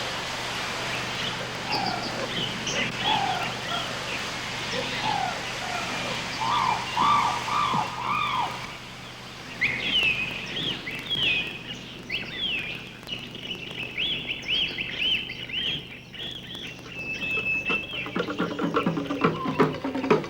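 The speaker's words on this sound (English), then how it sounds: "a rainforest walk of giant kauri trees and cascading waterfalls. Its cool, leafy atmosphere, echoing with birdsong" Birds chirp and trill throughout a cool, leafy rainforest walk among giant kauri trees and cascading waterfalls, with a steady low hum and rustling underneath. The calls are moderately close and keep overlapping for about twenty seconds.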